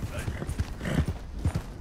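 Hooves of a horse in Red Dead Redemption 2 clop in an uneven walking rhythm, close and soft, with a few distinct thuds standing out.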